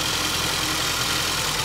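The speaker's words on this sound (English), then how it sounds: "hold it up to the engine." A Porsche engine idles with the microphone held close to it, giving a steady, dense broadband rumble with no gaps for the whole stretch and nobody speaking.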